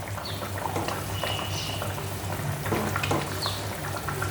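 Fish curry gravy simmering and reducing in a pan, a steady bubbling sizzle with soft pops, close and continuous, no talk.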